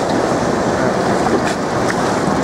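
A water ride rushes down rapids at a miniature theme park in Italy, giving a constant loud splashing and wind-buffeted roar with no clear break.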